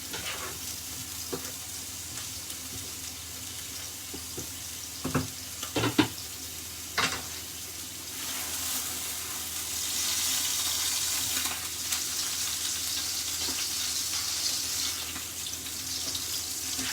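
Vegetables for a roast beef dinner sizzle steadily in a pan, with a few sharper clatters of stirring early on and a broad hiss swelling louder toward the end.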